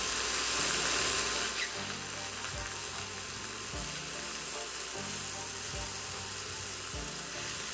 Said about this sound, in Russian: А пока грибы обжариваются